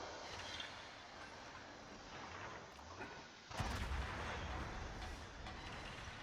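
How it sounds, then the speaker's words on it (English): Heavy armour-piercing shells boom from naval guns in a warship video game. A steady rumbling roar builds to a sharp, louder salvo midway and then lingers as a low, continuous rumble. "these are heavy AP shells"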